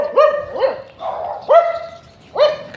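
A dog barks close and loud, about four sharp yelping barks with short pauses between them, with no speech alongside.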